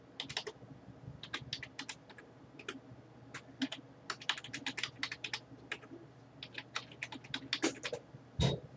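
Someone types a user ID and password on a computer keyboard, quick irregular bursts of close, crisp key clicks with short pauses and a heavier thump near the end.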